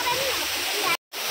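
Khabru waterfall splashing, a loud continuous rush of falling water close by, broken by a brief cut to silence near the end.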